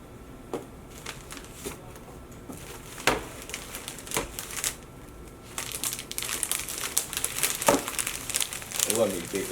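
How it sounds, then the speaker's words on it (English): Plastic packaging from a Best Buy gift crinkles and crumples as it is unboxed and gathered up, a close, continuous rustle that grows louder and busier in the second half. "Let me pick up all this plastic."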